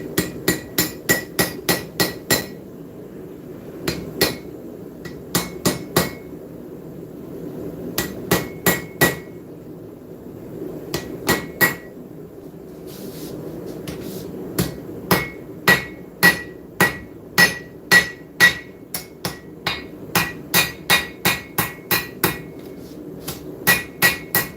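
Hammer blows forging hot metal on an anvil in a blacksmith shop, struck in quick bursts of ringing strikes separated by short pauses, loud and close throughout.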